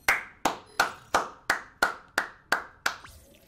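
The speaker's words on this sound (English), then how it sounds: "Everybody, round of a freaking applause for Raul." Eight sharp, evenly spaced claps ring out alone, close and loud, each decaying quickly before the next.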